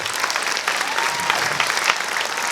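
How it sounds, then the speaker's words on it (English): An audience at a military appreciation gathering aboard the Carnival Mardi Gras bursts into sustained applause, dense and loud throughout, with faint voices mixed into the crowd. "I want to say a big round of applause"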